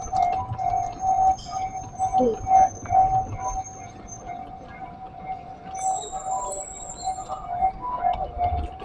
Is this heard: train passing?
yes